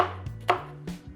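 A knife chopping food on a board for eggplant pilaf, a few quick close thuds spaced unevenly over about a second, heard alone.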